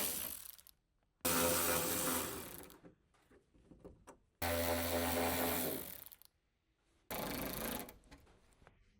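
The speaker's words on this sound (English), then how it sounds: "With the small electric impact wrench, remove the retaining screws for the window regulator." A small electric impact wrench spins out the window regulator retaining screws on a Ford F-150 front door, three loud buzzing, whirring bursts, each a second or two long, split by short quiet gaps.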